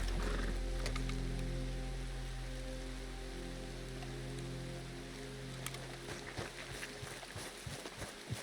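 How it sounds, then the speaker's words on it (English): Rain falls as a soft, steady hiss in the video game Red Dead Redemption 2, faint and continuous, with a few scattered drips and low thumps later on. "I hear water, so the river is there, but that could just as well be the rain,"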